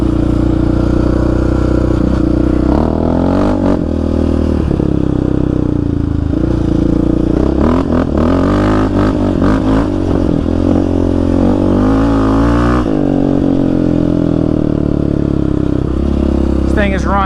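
A Yamaha Raptor 700 ATV engine roars loud and close on washed-out Arizona desert trails, revving and shifting continuously with rattles and clatter over rough ground, and a voice speaks over it.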